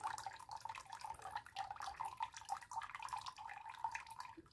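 Water trickles and drips out of an RO purifier's sediment filter housing after an elbow fitting is removed, a close, irregular patter of small splashes.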